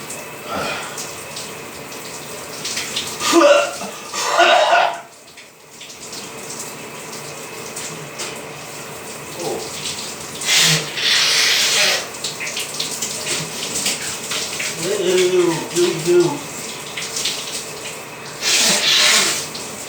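A home shower runs with steady hiss of falling water, broken by louder splashing bursts and brief pauses as water is interrupted, heard up close with no talking.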